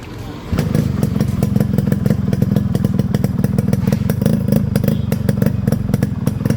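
A Yamaha RX 100 two-stroke motorcycle fitted with a modified silencer idles steadily up close, a loud, continuous, rapid popping thrum with a sharp onset and no voices.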